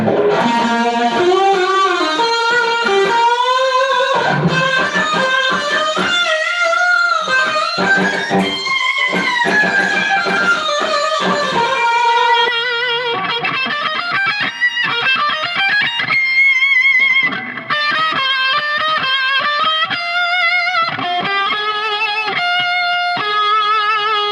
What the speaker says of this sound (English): That's the sound of these two pickups out of phase